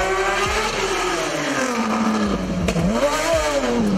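A BMW E46 M3 engine revs hard toward 9000 rpm, its shrill rising and falling howl loud and close, with sharp pitch swings across several throttle blips.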